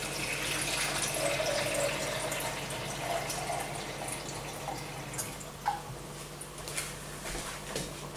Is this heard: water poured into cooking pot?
yes